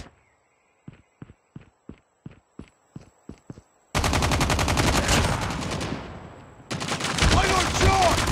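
Call of Duty Mobile search-and-destroy match: about a dozen evenly spaced single shots ring out one after another, then heavy continuous automatic fire bursts in, loud and near, with a short lull before a second barrage.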